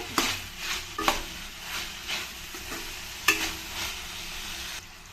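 Vegetables stir-frying in a pan for vegetable fried rice: a continuous sizzle broken by repeated scrapes and clinks of a spatula against the pan, alone and close.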